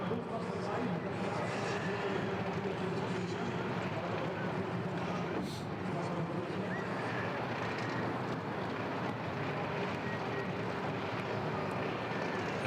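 A pulling tractor's engine roars loud and continuous at a tractor pulling event, a dense, steady mechanical drone that fills the whole stretch, with a commentator speaking over it.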